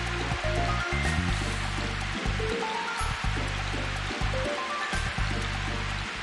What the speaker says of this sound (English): Wow, that's a cool waterfall.